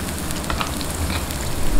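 Garlic and onion sauté in a hot pan, making a dense, even sizzle up close that swells slightly at the very end.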